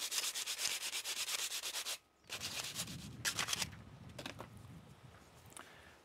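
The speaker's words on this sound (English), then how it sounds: "just sand the rest of the edges" Sandpaper rubs the edges of a homemade drawing proportional divider in quick, rhythmic back-and-forth strokes, then in slower scattered passes, close and quiet.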